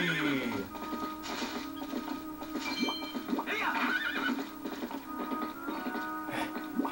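Epona the horse from Zelda: Twilight Princess whinnies and gallops, hooves clopping in a quick steady rhythm beneath high neighing calls, with in-game sounds layered over the run.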